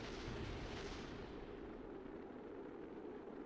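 Explosion in the video game Kerbal Space Program: a loud, broad rumbling blast that fills the whole clip and fades slowly, with no talk.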